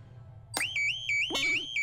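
Electronic alarm going off in the Totally Spies! animated series: a loud, steady run of repeating high-pitched tonal beeps with a brief sweep, close and alone, with no talking.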